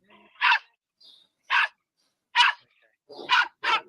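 A dog in Spain barks five separate times, sharp and fairly close, with short quiet gaps between each bark and the last two coming in a quick pair.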